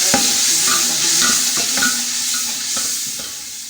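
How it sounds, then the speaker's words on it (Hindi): Kadhi with spoonfuls of chilli spice being stirred in a pot, a loud close sizzle with repeated scraping strokes of a spoon across the bottom at an uneven rhythm. "साथ साथ हम इसको हिलाते जाएंगे ताकि हमारा मसाला नीचे ना लगे"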